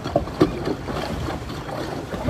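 A sailboat under way in good wind, with a steady rush of wind and water noise pressing close on the microphone and no breaks.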